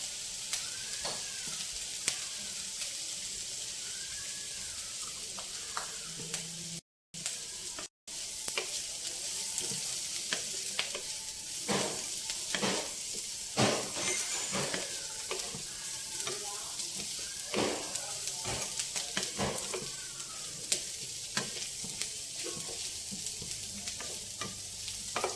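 Vegetables and vermicelli fry for semiya pulao in a pan, giving a continuous bright sizzle with frequent stirring scrapes, close and steady throughout.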